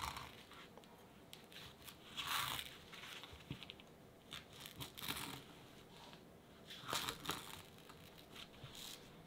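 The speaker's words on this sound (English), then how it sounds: "start cutting the foam" A knife slicing through soft roller foam for a homemade airsoft suppressor, quiet close-up scraping and tearing strokes coming in short bursts with pauses between.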